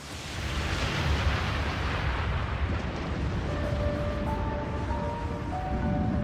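Comet fireball explosion rendered as a documentary sound effect: a loud, sustained roaring rumble lasting about six seconds without letup, with faint steady tones rising in toward the end.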